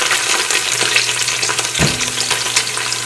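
Okra stew being stirred in a pot, with a steady close sizzle and frying crackle throughout and a brief louder scrape of the spoon near the middle.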